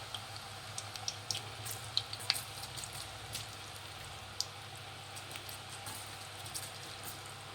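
Peanuts dropped into hot oil, a steady soft sizzle with scattered crackles and pops at moderate distance, without speech.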